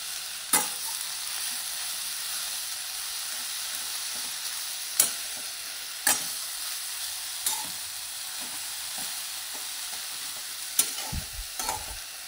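A chili mixture fries in a pan with a continuous, close sizzle. A spatula stirs it throughout, adding a handful of crisp scrapes and knocks spaced a few seconds apart.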